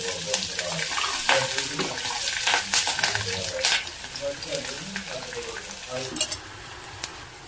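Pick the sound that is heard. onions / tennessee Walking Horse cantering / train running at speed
onions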